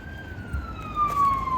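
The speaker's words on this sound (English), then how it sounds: "Ooh, police car." A police car siren passes in the street, a single clear wailing tone sliding slowly downward as it goes by, moderately loud over a low background rumble.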